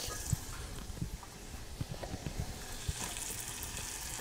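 Onion fries in butter with a dense, continuous crackling sizzle, with soft irregular taps from stirring underneath.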